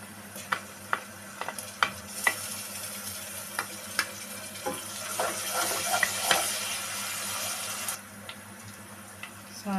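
Onions frying golden in a pan as ginger garlic paste goes in, a steady low sizzle with scattered clicks and scrapes of stirring, a brighter hiss swelling midway, fairly faint and with no voices.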